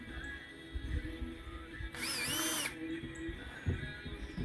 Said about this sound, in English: they're pretty hard to drill, so I gotta drill like a pilot hole